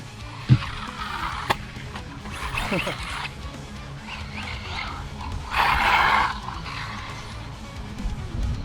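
An MJX MEW4 M162 budget RC buggy runs on a 2S battery, taking a few jumps on wood chips. Its motor whines faintly in bursts, with sharp thuds on the landings, all somewhat distant.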